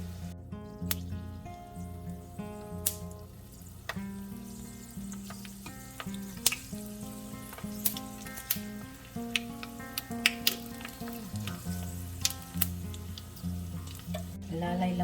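Ube buchi frying in a pan as it is stirred, with a steady close sizzle, scattered utensil clicks and scraping, and a low continuous hum underneath throughout.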